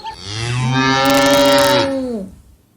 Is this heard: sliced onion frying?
no